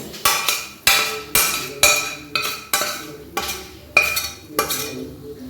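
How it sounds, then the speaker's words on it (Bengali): Fried onions are scraped into a pot of raw chicken, with a series of about ten sharp metal spoon knocks against the pot's rim at a steady rhythm, each followed by a short ring, loud and close. "এই পেঁয়াজ ভাজাটাকে আমি দিয়ে দেব র চিকেনে"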